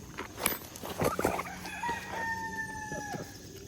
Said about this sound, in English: I'm gonna go out here and sit with the chickens and feed them breakfast this morning.